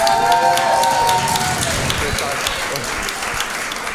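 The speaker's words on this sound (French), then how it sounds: "j'espère que vous allez l'accueillir très fort, avec beaucoup d'applaudissements" A stand-up comedy audience applauds loudly to welcome a new comedian onto the stage, dense sustained clapping from the crowd with a voice speaking over the start.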